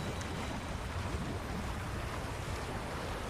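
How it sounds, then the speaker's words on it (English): Rushing water from a huge waterfall and river in the video game Wuthering Waves, a steady loud roar of broadband noise that holds unbroken throughout with no voices. "That's a really big waterfall."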